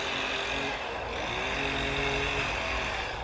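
Lawn mowers run in a sunny suburban neighbourhood, a continuous droning engine hum that fills the background steadily, with no talk over it.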